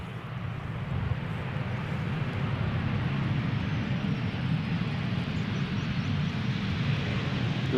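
Airliner arriving at Amsterdam Schiphol, a continuous broad roar of engines and airflow, steady and enveloping as heard from inside the aircraft.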